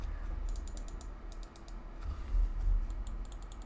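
Left and right button clicks on a Zowie EC3-C gaming mouse: short, crisp clicks in quick bursts, close and fairly loud over a low background hum, with no talking.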